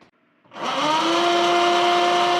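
Electric motor of a Syx Moto Sprk electric motorbike on its kickstand, silent at first, then spinning up quickly into a steady, loud, high-pitched whine that holds at constant speed.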